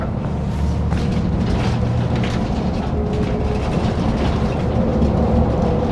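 A Scania bus engine runs steadily nearby with a loud, continuous low rumble and drone. Faint traffic sounds are heard through an open window on a London street.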